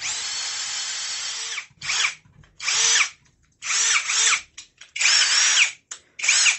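A Pro Stormer cordless drill-driver spins at high speed in several bursts, one long run followed by shorter whirring pulses with brief pauses between, close and loud with no talking.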